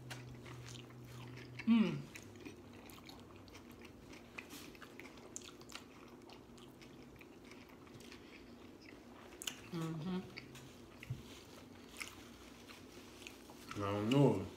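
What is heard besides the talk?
biting and chewing a homemade vegan Subway-style sandwich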